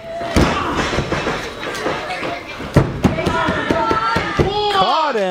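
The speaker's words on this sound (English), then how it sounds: "For a power bomb" A wrestler slams onto the mat from a power bomb in a wrestling match, a loud sharp thud amid repeated impacts and crowd noise, with a commentator talking over it.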